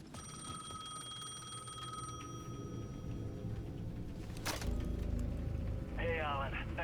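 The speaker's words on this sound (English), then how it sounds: "The payphone at the edge of the plaza was ringing again." A payphone rings in the Alan Wake 2 video game, a steady electronic ringing tone at the edge of a plaza under a low ambient drone, followed by a brief crack and a warbling tone near the end.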